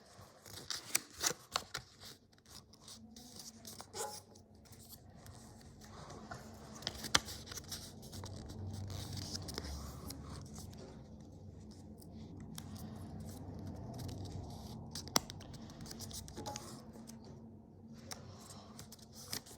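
Quiet close snips of scissors cutting paper for a paper dragon puppet, a quick run of cuts early then scattered sharp snips over soft handling rustle.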